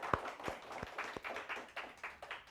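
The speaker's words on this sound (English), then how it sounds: "Let's applaud." Light applause from a small audience after a saxophone student's performance at a master class, a few scattered claps spaced irregularly and thinning out, fairly quiet.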